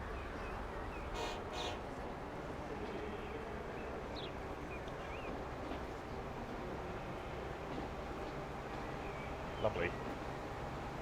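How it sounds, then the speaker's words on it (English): A train rolls along single track in the Transport Fever simulation game with French trains, a steady dense rumble of wheels and carriage noise throughout, with a few faint horn-like tones. "Let's get on the Bompas train."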